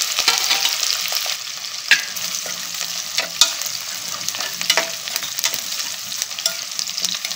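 Sliced onions and spices shallow frying in oil inside a pressure cooker, a steady close sizzle with scattered clinks and scrapes of stirring throughout.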